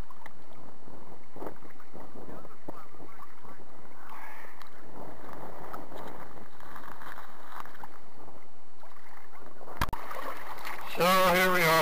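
A small sailboat moves across the water near Slipper Island off Honolulu. Steady wind buffets the microphone over a low wash of water, and a sharp knock and a brief loud tonal burst come at the end.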